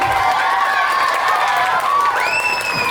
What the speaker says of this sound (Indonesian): Kita kasih aplaus untuk guru-guru kita.